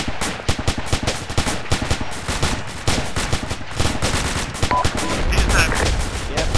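Rapid rifle fire from a section during a military field exercise, many overlapping shots in a continuous, dense rattle close by, with voices faintly underneath.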